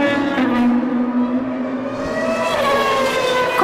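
A Toyota Yaris race car circulates on the Suzuka circuit east course at a 2019 Honda and Toyota motorsport festival, its engine a steady, loud drone with shifting pitch over about four seconds and no voices.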